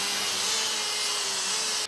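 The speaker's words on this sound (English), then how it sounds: "So this little 80 grit one will just rip the paint off" An 80-grit sanding disc grinds paint off the roof panel of a 1970 Holden HG ute under rust repair, a steady loud abrasive whine that cuts off abruptly at the end, with no talking.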